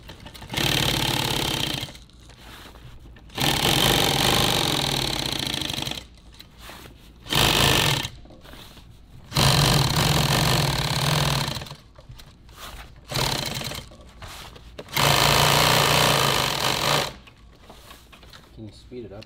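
A sewing machine stitches nylon tactical gear in rapid whirring bursts, about six runs of varying length broken by short pauses, close and fairly loud.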